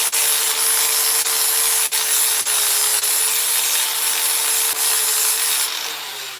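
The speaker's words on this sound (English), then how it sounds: "So I get the belt sander back out and clean those ears up." A belt sander runs continuously on a chainsaw-carved wooden heron, giving a loud, close, steady abrasive whir with a constant motor hum. Brief dips mark changes in pressure, and the sound fades slightly at the end.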